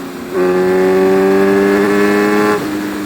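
A 2014 Kawasaki Z1000 motorcycle with modifications and stock gearing pulls a sixth-gear roll-on, its engine swelling into a loud, steady, rising roar for about two seconds before easing back.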